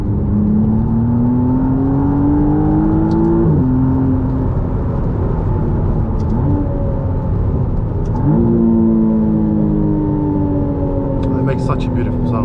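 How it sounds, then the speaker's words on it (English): A McLaren Artura engine revs loudly and continuously in sport mode, its pitch climbing, dropping sharply, then climbing again through repeated gear changes. "if you keep it in sport and a high rev, this car is ridiculously loud"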